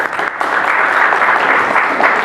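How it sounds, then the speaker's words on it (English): Loud, dense applause fills a room of young people at a talk on the Sustainable Development Goals in Delhi, a brief, even burst of many hands clapping with no voices on top. "So give yourself a round of applause."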